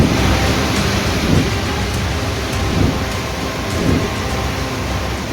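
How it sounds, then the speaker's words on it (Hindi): Heavy monsoon rain pours loudly and continuously in Idukki, Kerala, with low thunder rumbling beneath the steady downpour in a few swelling waves. "यहाँ बारिश इस कदर कहर बनकर टूटी कि पूरे शहर में बाढ़ जैसे हालात हैं"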